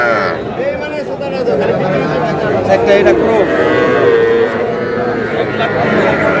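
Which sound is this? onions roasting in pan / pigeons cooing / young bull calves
young bull calves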